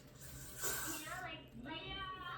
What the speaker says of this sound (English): I'm getting ready to spray a little bit more